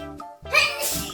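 A single sharp sneeze, close and loud, with a brief breathy intake just before it.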